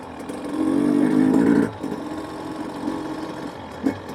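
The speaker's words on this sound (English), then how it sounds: "this bike just really does great lugging down like that" A motorcycle engine lugs at low revs in a quiet Quartzsite desert camping area, a steady, fairly loud rumbling drone that drops away to a quieter idle-like hum after about a second and a half.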